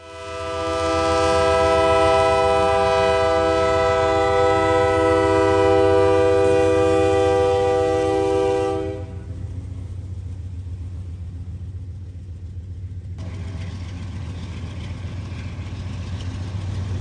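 A CSX freight train on the Indy Line sounds a loud, sustained multi-tone horn for several seconds, then its heavy rumble and wheel noise roll on steadily after the horn stops.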